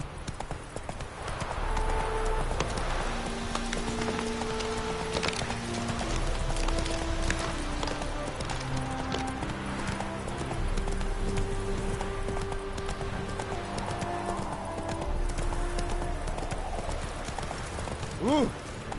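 Roach, the horse in The Witcher 3, gallops with steady rhythmic hoofbeats under game music, a short whinny rising near the end.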